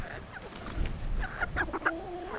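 Chickens from a front-yard backyard flock cluck close by in a short run of soft clucks and brief higher calls, with no talk over them.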